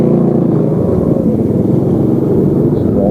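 A motorcycle engine runs loud and close throughout the ride, a steady low rumbling drone with a slight pulsing throb and no clear pauses.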